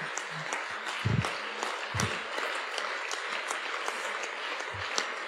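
An audience applauds at the closing of the 19th congress of the UGICT-CGT union. The clapping is steady and moderately distant, running through the whole stretch, with a few louder low thumps near the microphone.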